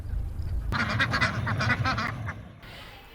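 After a brief muffled start, a crowd of about 2,400 farm ducks, adults and ducklings, breaks into loud, busy quacking close by, the chatter overlapping steadily before it cuts off.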